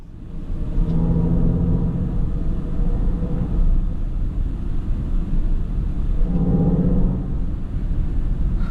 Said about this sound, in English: So this EQS produced this kind of sound, which is basically an electric version of AMG growl.